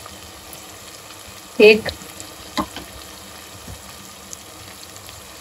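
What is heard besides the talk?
yogurt stirred into sizzling gravy in a pot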